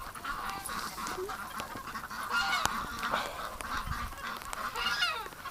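A marbled duck calling with a series of short nasal honks and quacks at an irregular pace, moderately close over faint background noise.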